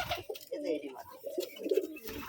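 Pigeons make soft, low cooing at close range, several burbling coos running together over a quiet background.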